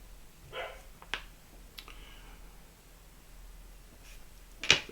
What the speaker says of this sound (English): Excuse the dog in the back.